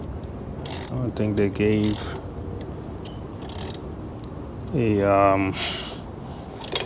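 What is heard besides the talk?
tightening bolts on tie down brackets, Honda Goldwing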